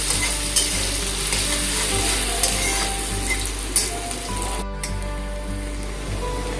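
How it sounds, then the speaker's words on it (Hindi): Chopped onions sizzle steadily in a pan while a spoon stirs them with occasional scrapes, a close, continuous frying hiss with no talking. "गोल्डन ब्राउन होने तक मैं इसको चला लूँगी"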